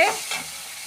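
A spiced meal maker biryani mixture with curd, cumin and fennel powder is stirred and sautéed in a pan, giving a short burst of sizzling that fades to a soft hiss.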